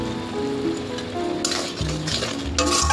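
Salt, coriander powder, chili powder and turmeric stir-fried in a pan for a rajma or chole curry: busy close sizzling with scraping, clattering spatula strokes against the metal.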